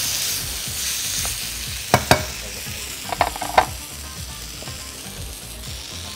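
Chicken pieces sizzle steadily in a hot pan, with a few sharp scraping clacks as they are turned over near the middle, then the frying hiss carries on alone.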